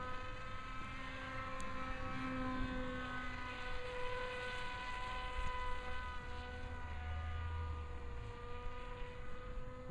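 Dynam Hawk Sky four-channel RC plane in flight, a steady propeller whine with layered harmonic tones holding at constant distance throughout, with slight swells in pitch as it maneuvers.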